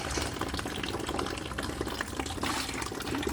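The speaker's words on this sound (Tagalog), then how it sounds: "Mahina ang tulo ng tubig." Water trickling weakly from a tap into a hydroponics container for lettuce, a soft continuous splashing and gurgle that stays steady and fairly quiet throughout.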